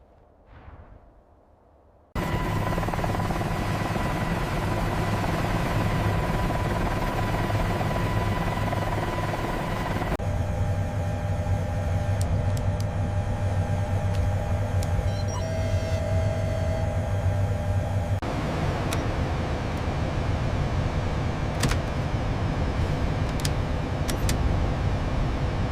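AH-1Z Viper and UH-1Y Venom military helicopters of a newly activated squadron starting up, a loud, steady turbine roar and rotor drone that begins abruptly after a quiet moment and holds throughout, shifting tone partway.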